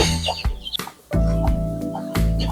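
Native chicks and hens cluck and peep close by, several overlapping calls in quick bursts with a brief quiet gap, loud and unobscured by speech.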